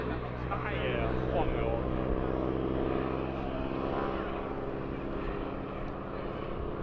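Vintage 1940s Boeing Stearman biplanes performing at an air show, a steady loud engine drone filling the whole stretch with broadband rumble and no clear breaks, with crowd or commentary mixed faintly beneath.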